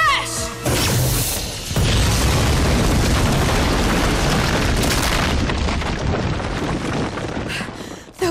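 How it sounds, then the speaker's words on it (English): A loud, sustained cartoon explosion from a catapult weapon impact rumbles and crashes for several seconds, dense and booming before tapering at the end. "It's Kieran's catapult weapon. I'd recognize it anywhere."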